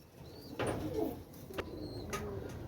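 Teddy pigeons coo softly nearby, with low throaty murmurs among faint rustling and a few light bird chirps, fairly quiet.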